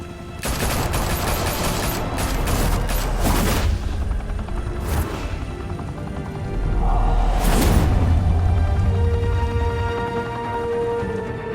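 Dense bursts of video game gunfire in a Gotham crime setting, rapid volleys and heavy booms filling the scene loudly, with a second swell of blasts later on and no talk.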